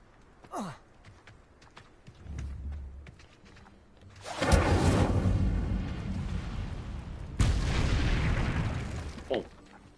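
Spell explosions in Hogwarts Legacy, including an Incendio fire spell, burst out in two loud, roaring blasts that each trail off, with brief game sounds and voices around them.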